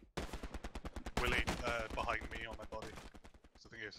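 Gunfire in the World War II shooter Hell Let Loose, a dense run of rapid shots and bursts filling the whole stretch, loud and close, with someone talking over the firing throughout.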